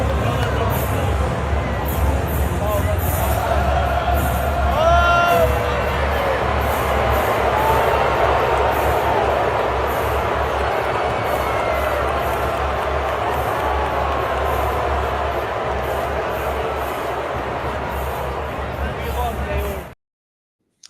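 A large crowd at a Valentine's Day celebration boos Tay, a long, loud, sustained wave of jeering and murmuring with a few voices rising above it before it cuts off abruptly.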